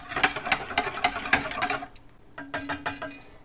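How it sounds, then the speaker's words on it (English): A whisk beats custard in a pan as it heats, giving a fast, steady run of light metallic taps that pauses briefly and then resumes, close and fairly clear with no voices. "We'll be whisking it, not stirring it."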